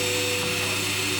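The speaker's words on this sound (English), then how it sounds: "I just moved the leg up and down the drill press to hog out the remaining material." A drill press with a brad point bit hogs a mortise out of a wooden leg, giving a loud, steady whine with a constant motor tone and no break.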